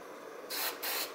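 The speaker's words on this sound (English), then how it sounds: "so just spray away." A spray paint can puts out two short, close hissing bursts of flat black paint during a Nissan D21 Hardbody oil cooler install, set against quiet background noise.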